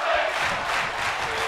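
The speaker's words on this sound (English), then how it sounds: "Crowd's chanting tag team wrestling right now." A crowd chanting in an arena during a tag team match in the wrestling video game WWE 2K24, a dense roar of many voices, loud and continuous, with no commentary over it.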